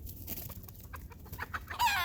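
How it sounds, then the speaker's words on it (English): A rooster gives a short burst of clucking at the end, after a couple of seconds of quiet rustling and scuffling close by. "Rooster just ran by me."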